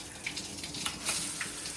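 Water flowing from a shower head, a steady hiss of spray with small splashy bursts, fairly close and moderately quiet, with no talk.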